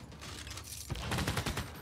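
In Civilization VI, a city fires on a unit with a short burst of crackling, mechanical volley shots, a quieter rattle at first then a louder clustered barrage, alone without talk.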